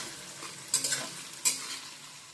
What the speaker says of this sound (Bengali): আমি আলুটাকে ভেজে নেব এক দু মিনিট ভালো করে ভেজে নেওয়ার পরে